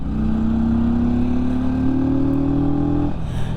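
Steady engine drone from a Benda motorcycle while riding, a loud, continuous tone climbing gently in pitch as the bike pulls, then easing off near the end, with wind rush around it.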